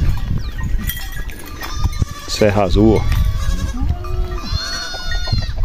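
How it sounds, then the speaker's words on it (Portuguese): A large herd of fat native crossbred goats on a farm at dusk, bleating in repeated wavering calls near and far, with someone talking over them. "Tudo bode gordo aqui."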